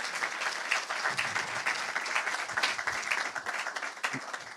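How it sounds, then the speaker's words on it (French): A room of guests at a business club launch event applauding, a dense, even patter of many hands clapping that holds steady throughout, moderately near. "Vous pouvez applaudir, Nina."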